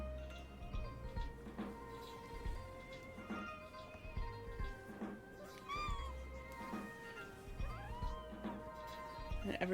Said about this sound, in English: everybody can hear your tiny kitten screams